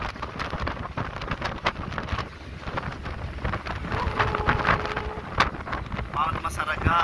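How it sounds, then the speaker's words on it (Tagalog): Strong wind buffeting the microphone in loud, uneven rumbling gusts that run throughout, with a voice speaking briefly under the roar. "Lakas ang hangin."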